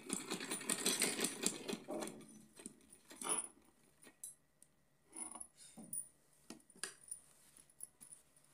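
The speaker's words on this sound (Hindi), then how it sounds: "आने के बाद में इसको थोड़ा सा सिलते हैं।" A sewing machine stitching along the cloth edge of a small winter bed, heard in bursts of rapid mechanical whirring, loudest at the start, then shorter runs separated by pauses and light clicks, with no speech.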